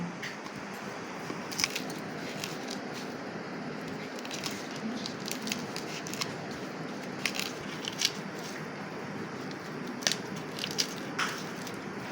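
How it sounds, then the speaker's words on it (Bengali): Boiled jackfruit seeds being mashed by hand with onion, chili and mustard oil make soft, faint squishing and crushing with scattered small clicks and crackles over a quiet background. "এবার আমি এটাকে পেঁয়াজ লঙ্কা সর্ষের তেল দিয়ে মাখিয়ে নেব"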